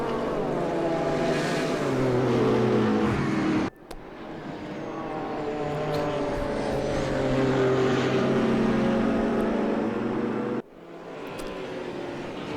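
Race cars in the GTR3 endurance series at Zandvoort, including a Nissan GTR, roar past in a sustained engine drone that rises and falls, cut by two abrupt breaks, loud and continuous.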